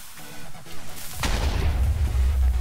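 Dynamite from Balkon's Weapon Mod for Minecraft explodes in a single loud, booming blast about midway, its rumbling roar sustained to the end after a quieter stretch of game sounds.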